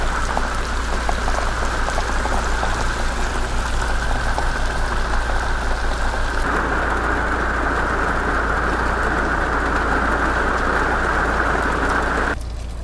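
Steady rain pours down outside a Navion RV, a dense continuous hiss and patter of drops drumming on the roof, loud and close throughout with no voices, cutting off abruptly near the end.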